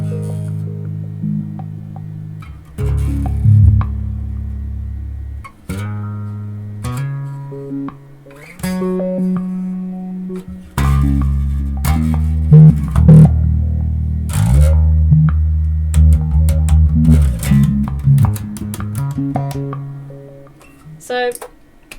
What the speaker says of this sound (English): The next one is the Obi-Wan, which is basically a step filter.